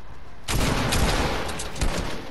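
A gunshot in a shooter video game, a sudden loud close blast that rolls into a dense, sustained burst of fire for about two seconds.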